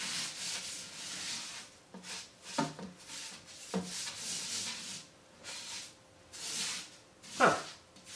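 Sand being smoothed out by hand inside a 10-gallon saltwater aquarium, giving soft scraping and rubbing strokes in several short bursts, close and fairly quiet, with no talk.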